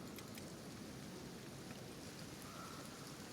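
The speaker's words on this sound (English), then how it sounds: "Yep, acid rain." Acid rain falls in the video game Kenshi as a faint, even hiss of rainfall that holds steady throughout, with no voices.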